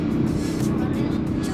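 A 2025 Audi RS5 with its 2.9-liter V6 accelerating hard, giving a loud, steady engine roar that holds strong and unbroken throughout.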